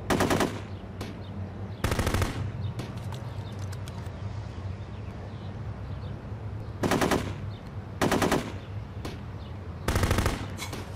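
Machine guns fire in loud bursts in the Full Spectrum Warrior military game, several sharp rapid volleys a few seconds apart with quieter combat ambience between them.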